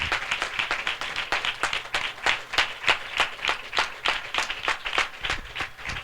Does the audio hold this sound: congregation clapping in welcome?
yes